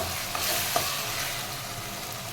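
Tomatoes being smashed and stirred with a ladle in a frying pan while cooking a crab curry. A short, close sizzle carries through, with a couple of sharp scraping knocks from the ladle.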